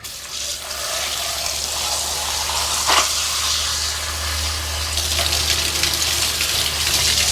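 Soaked machine parts being rinsed under running water, a steady close gush from a tap that continues throughout with slight shifts as the flow hits the parts.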